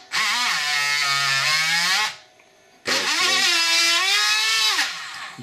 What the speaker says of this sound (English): this Dremel goes pretty fast